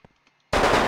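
A Colt gun fires a loud, dense automatic burst in the video game Delta Force: Land Warrior, erupting abruptly after a few faint clicks and near silence.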